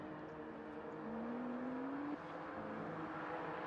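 Racing-car engine sound from a GT3 racing video game at the Sepang circuit, a steady drone with one rising tone for about a second, continuous and fairly even in level with no talk.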